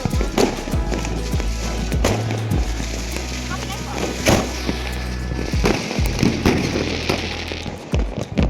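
Firecrackers and fireworks bursting at a Diwali celebration in Madurai, with sharp repeated bangs and crackles in quick irregular succession over a continuous rumble and background voices.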